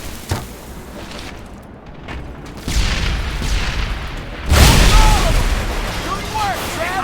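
A deep boom from an explosive charge blowing up a tank in the Medal of Honor Airborne video game, followed by a swelling roar of blast and debris, loud and close, with battlefield noise around it.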